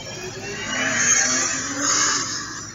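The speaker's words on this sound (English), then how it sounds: "showing a pickup truck speeding up in the neighborhood" A pickup truck engine swells as it speeds past in a neighborhood, rising then fading, heard from a moderate distance with a thin, muffled quality.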